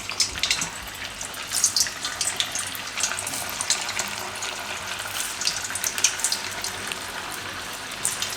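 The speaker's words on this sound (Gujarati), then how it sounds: "તો એમાં આપણે આ બધા કેળાને તળી લેવું." Steady crackling sizzle of banana slices frying in hot oil, with bright popping bursts throughout and no talking.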